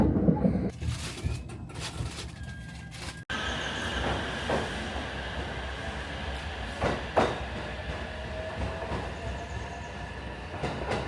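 A train arrives at a rural station in Yabu, Hyogo, Japan, on a wet day after rain. Steady rumble and rail clatter run throughout, with faint wheel squeal and some clacks as it rolls in.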